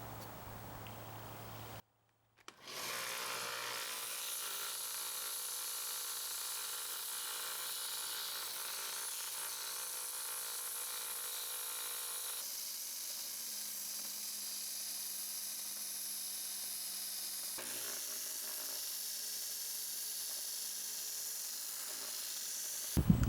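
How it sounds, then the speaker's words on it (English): A 1x30 belt sander with a 40 grit belt grinds a hickory handle, running as a steady, loud whir for about twenty seconds after a brief quiet start, with a shift in tone partway through and no talking. "So now I'm going to clean up my profile using my 1x30 belt sander. I've got a 40 grit belt on here."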